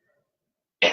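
Sharp throat clearing from a woman, one short loud burst near the microphone right after silence.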